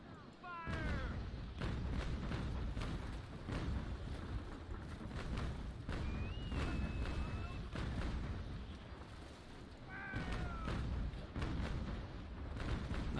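Repeated broadside cannon fire from sailing warships in the naval combat game Naval Action, a dense run of heavy booming shots in quick succession with a few whistling tones over a continuous rumble.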